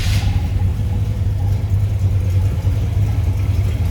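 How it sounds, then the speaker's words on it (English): The 355 V8 in a 1938 Chevrolet Master Deluxe street rod idles with a steady, deep low rumble, loud and close, with no talk over it. "Fire up that 355 V8. It's got a nice little rumble to it."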